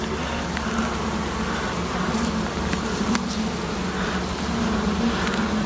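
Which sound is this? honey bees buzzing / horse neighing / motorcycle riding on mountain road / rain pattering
honey bees buzzing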